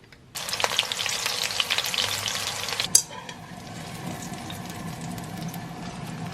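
Spring onions dropped into hot vegetable oil in a wok burst into a loud, crackling sizzle. A sharp clank cuts in about halfway, after which the frying settles into a quieter, steady bubbling.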